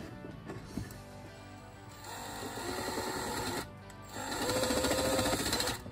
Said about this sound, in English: all we're going to do is drill that out and shoulder it all the way down to here